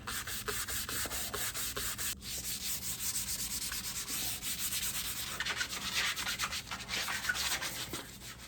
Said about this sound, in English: So I'm going to need to keep sanding.